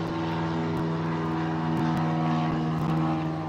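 A propeller airplane drones past overhead, a steady, fairly loud engine hum with a low harmonic rumble that holds constant through the whole stretch, with no talking.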